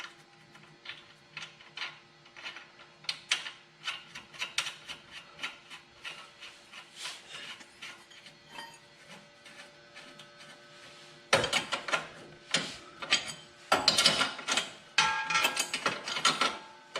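Ratchet clicking in repeated short bursts while a nut is tightened onto a ball joint on a 2004 Toyota Corolla control arm, close and fairly loud, growing busier and louder toward the end.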